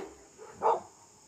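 A single short dog bark, faint and somewhat distant, heard alone against quiet background hiss.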